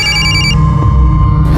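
A telephone rings loud and close with a bright repeated electronic ringtone, standing alone for a call from Sandeep.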